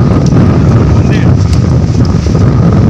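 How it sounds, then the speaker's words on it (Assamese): Strong wind on a hilltop at a temple buffets the microphone in a loud, continuous low rumble of gusts for the whole stretch. "ইয়াতে বতাহৰটো ইমান বতাহ"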